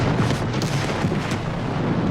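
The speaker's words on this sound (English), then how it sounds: "the flammable vapor cloud found an ignition source and exploded" A flammable vapor cloud explodes at a TPC chemical plant, a loud, sustained rumbling roar with broad noise and a couple of sharper bursts, heard from a distance with no talk.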